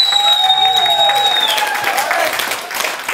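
Applause for restaurant staff at a community celebration, a brief burst of crowd clapping heard close and fairly loud alongside a sustained musical tone that fades midway.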